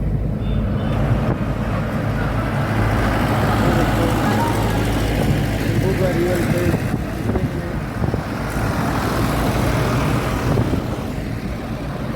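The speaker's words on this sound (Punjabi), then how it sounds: "ਬਾਰਡਰ ਤੇ ਜਾ ਰਹੇ ਨੇ ਟਰੈਕਟਰ ਸਾਰੇ ਹੀ" A convoy of tractors on a farmers' march rumbles past continuously with wind buffeting the microphone, a steady roar of engines moving by close to the listener.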